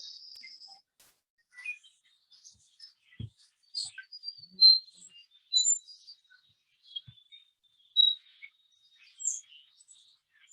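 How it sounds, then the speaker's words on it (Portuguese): Birds sing in a quiet natural setting, with scattered high chirps and short tweets coming in sparse bursts, fairly faint and distant, with no other sound around them. "Aos cantos dos pássaros."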